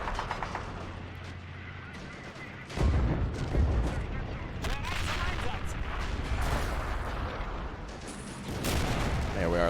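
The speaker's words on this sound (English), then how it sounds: "We have an enemy vehicle firing at us." Gunfire and artillery rumble in a Men of War: Assault Squad 2 battle on the Western Front, near a factory where an enemy vehicle is firing, with dense repeated shots and a heavy boom setting off a loud, sustained barrage.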